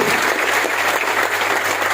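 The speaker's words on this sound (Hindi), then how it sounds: "तो जोरदार तालियां चाहता हूँ" Loud, dense audience applause fills the hall at a stage event, continuous clapping from a large crowd throughout.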